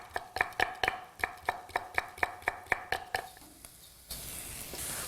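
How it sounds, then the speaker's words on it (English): A knife chops lemongrass finely on a cutting board in a quick, even run of about a dozen crisp knocks. A soft sizzling hiss takes over at the end. "we've got some lemongrass, and I only want this part, so I'm going to chop it quite fine"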